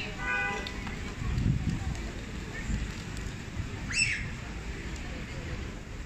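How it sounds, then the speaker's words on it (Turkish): Pigeons in a mosque garden in Kaynarca, Istanbul, flock while being fed, with scattered chirps, cooing and fluttering over busy outdoor background noise, including a brief sharp call near the end. "Bahçede güvercinler var. Güvercinlere yem verildiğinde bakın hepsi birden."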